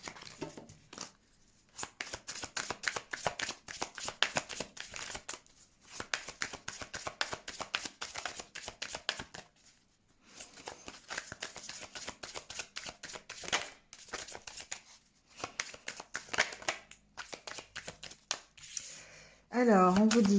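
A deck of tarot-style cards shuffled by hand in a series of riffling bursts separated by short pauses, close and fairly quiet, with a voice briefly speaking near the end.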